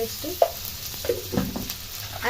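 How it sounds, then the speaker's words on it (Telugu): Ginger frying with salted onions in a pan for upma gives a steady close sizzle, broken by a few soft scraping stirs spaced through the stretch. "అల్లం బాగా ఫ్రై అయినాక"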